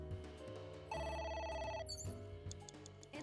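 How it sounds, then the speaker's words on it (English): A telephone rings in the video game AI: The Somnium Files, its bright tonal bell bursting out loudly for about a second over ongoing game music, with no talk. "It's ringing again."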